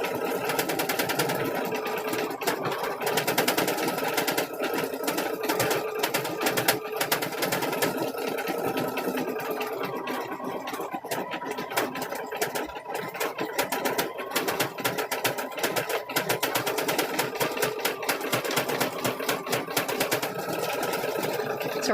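Sewing machine running steadily and loudly for a long stretch while stitching Christmas ornaments, a continuous close mechanical whir with slight speed changes and a faint voice in places.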